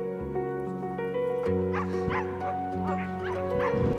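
Sled dogs at a camp in Finnish Lapland bark and yip eagerly in repeated overlapping bursts, several animals nearby, with a steady hum underneath.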